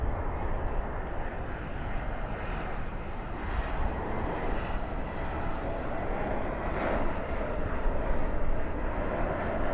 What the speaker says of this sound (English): There's a Volaris A321neo